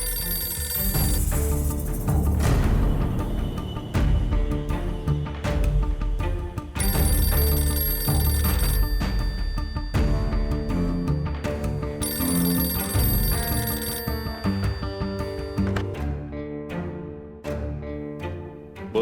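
A telephone rings in repeated bursts for almost twenty seconds, loud and insistent, its tones blending with a musical background that fades toward the end.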